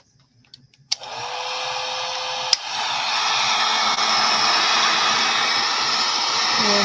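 Hair dryer switched on to dry ink on journal pages, starting after a couple of clicks and settling into a loud, steady blowing whir that runs continuously to the end.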